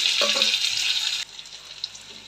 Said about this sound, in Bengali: তেল দিয়ে দিলাম দুটো সাদা দিলে দিলাম কালো দিলে দিতে হয় কিন্তু একটা কালো দিলে বারণ তো পেঁয়াজটা বাঁধা হয়ে গেছে এখন একটু টমেটো কুচি দিয়ে দিলাম